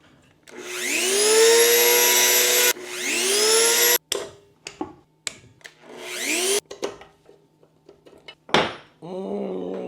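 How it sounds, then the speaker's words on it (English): A power grinder works on a stuck woodruff key on the shaft of a Yamaha 200 HPDI outboard, with two long, loud whining grinding runs followed by shorter bursts, clanks and scrapes of metal. "So I'm gonna keep grinding a little bit more, and then I'll try to squeeze it and see if we can get it out."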